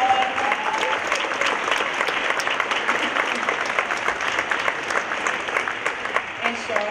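An audience at a fashion night book event applauds steadily and loudly for nearly seven seconds, with dense, sustained clapping filling the room and cheers woven through.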